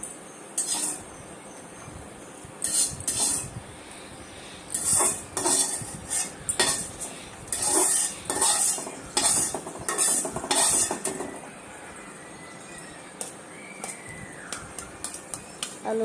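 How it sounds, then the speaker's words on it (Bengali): Fried potatoes are lifted out of a pan with a metal utensil, producing repeated close clinks, scrapes and clatter against the cookware in uneven clusters, then lighter taps, with no talk. "আলু ভাজাটা তুলে নিচ্ছি।"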